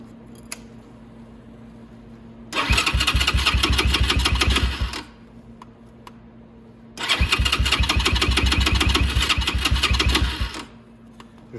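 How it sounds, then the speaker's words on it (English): Venom motorcycle engine, serviced at its 500-mile tune-up, cranked with the choke on an empty carburetor in two separate bursts of loud, fast rapid-fire chugging, each lasting a couple of seconds, with quiet pauses between and no voices. "So let's fire it up."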